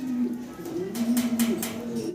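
Fancy pigeons at a farm give soft, close, rolling coos that rise and fall through a brief stretch, with a few rustling sounds.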